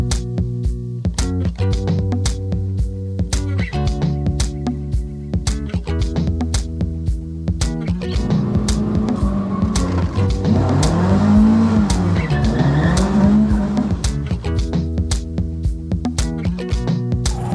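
Classic Ford cars, among them a Mk IV Cabriolet and a Mk1 Escort, cruise together through London streets, several engines revving and roaring nearby with a burst of tyre squeal in the middle, gear changes and throttle blips throughout.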